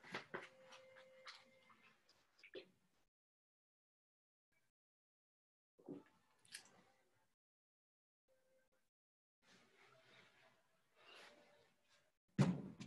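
A puppy pants in short quick bursts and lets out faint whimpers close by in a quiet room, the sounds coming in scattered clusters separated by long silences, with a sharp knock near the end.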